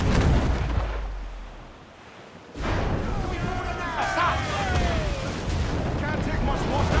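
Broadside cannon fire from ships in Assassin's Creed 4 Black Flag rumbles loud and heavy, fading briefly before a fresh roaring barrage, with a voice talking over it.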